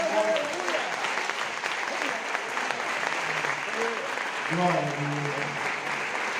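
Congregation in a church applauding steadily while someone speaks over the clapping and voices call out praise, the applause continuing throughout.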